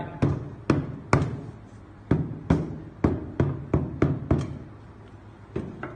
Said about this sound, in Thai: แตะไว้ใช้ค้อนยางทุบไล่